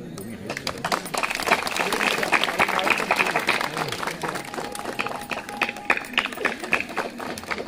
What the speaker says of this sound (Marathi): जरा जोरदार टाळ्या